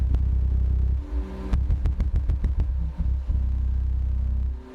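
Low bass tones throb from a single Audio Legion 12-inch car subwoofer, loaded in an enclosure and driven by a Taramps HD3000 amplifier, pulsing in a dense, steady rumble with brief dips before fading out near the end.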